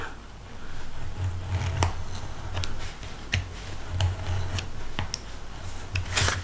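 Cardboard being cut along a ruler while making a gift box, heard as a steady scraping drag broken by sharp clicks and ticks of the blade, close and continuous with no speech.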